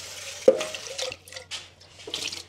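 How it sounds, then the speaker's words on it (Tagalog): Tap water runs and splashes while a rice cooker pot is washed in a sink, with intermittent gurgles, a sharp knock of the pot, and quiet close handling sounds. "hugasan ko muna itong ating rice cooker kay magluto pa ako ng rice"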